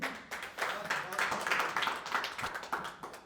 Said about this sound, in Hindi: ताली तो बजा दी, बहुत बढ़िया